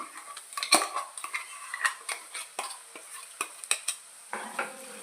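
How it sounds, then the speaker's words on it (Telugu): A ground paste gravy being stirred into fried brinjal curry in a pan, with a spoon knocking and scraping repeatedly against the metal over a soft sizzle, close and steady. "వేసేసుకుని కలుపుకొని ఒక్క నిమిషం వేపుకుందామండి"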